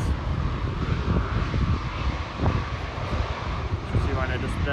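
A Ryanair airliner takes off at Manchester Airport, its engine roar fairly distant and steady under buffeting wind noise on the microphone, with some talk in the background.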